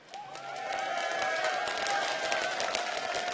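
A large esports crowd cheers and applauds loudly and steadily for SK Gaming, a dense wall of clapping and shouting that swells slightly and holds for a few seconds.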